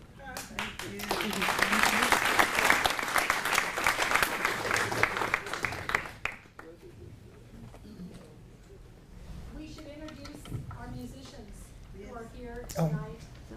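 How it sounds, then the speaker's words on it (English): A crowd claps loudly and continuously for about six seconds, then the applause stops abruptly and people talk over quieter room sound. "let's give them a round of applause"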